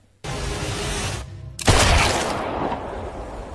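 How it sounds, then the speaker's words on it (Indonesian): A sudden loud burst of gunfire, then a brief pause and a second, heavier blast that rumbles and fades into a noisy wash. "Michael dan Ignat mendengar suara tembakan."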